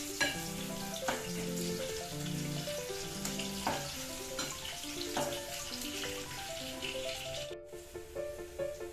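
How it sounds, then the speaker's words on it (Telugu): Onions fry in hot oil for a hotel-style stuffed eggplant curry, a steady close sizzle running throughout with occasional stirring touches, while background music plays over it. "ఆయిల్ హీట్ అయింది, ఉల్లిపాయలు వేసాను. ఉల్లిపాయలు బాగా ఫ్రై అవ్వాలి."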